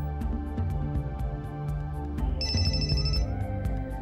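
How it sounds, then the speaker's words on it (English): Telephone ringing in an educational science piece, a bright electronic ringtone sounding over a steady musical background, with a clear high ringing burst in the latter part. "When the phone rings, sound is detected by the ears."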